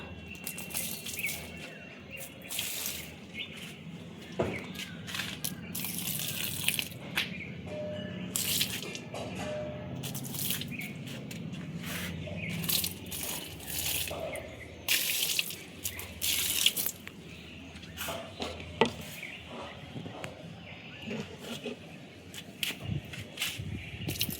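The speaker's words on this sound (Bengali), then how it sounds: "দেখো গাছগুলো এখন একটু জল দিয়ে দিই একটু জল দিয়ে দেবো অল্প অল্প করে দেবো" Water poured onto potted plants in the morning: a steady soft splashing and trickling, moderately close, continuing throughout with small fluctuations and faint bird chirps in the background.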